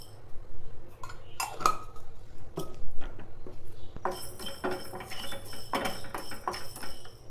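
Coriander seeds dropped into a hot kadai, giving a run of small dry clicks and light metallic clinks against the pan, fairly close and moderately loud, with scattered sharper ticks throughout.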